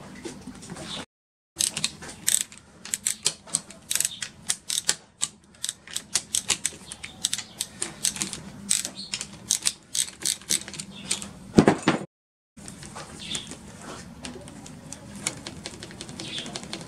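A ratchet wrench works 5/16 bolts loose from the pump of an AX4N automatic transmission in a Ford Windstar, Freestar or Taurus, giving long runs of rapid, close mechanical clicking with brief pauses; no talking.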